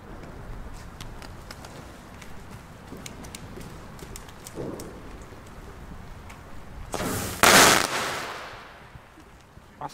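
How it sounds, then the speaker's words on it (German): Crackling pops and scattered small bangs from a chain of firework balls on New Year's Eve build into a loud, sharp blast with a fizzing burst, then the noise tails off. "Was für eine Explosion."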